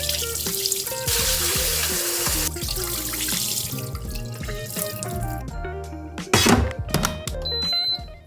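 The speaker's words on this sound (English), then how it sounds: "Wash your rice." Tap water runs steadily into a kitchen sink while rice is washed by hand, with music playing over it, clattering of grains and a louder splash near the end as the water is swirled or drained.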